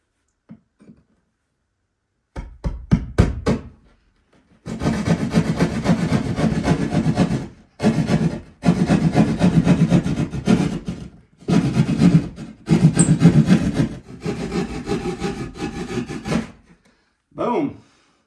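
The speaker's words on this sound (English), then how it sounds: "Finally, getting to the fun part, cutting into the wall." A hand saw cuts into an interior wall in long rhythmic rasping strokes, loud and close, broken by short pauses between runs, with a few brief taps before the cutting starts.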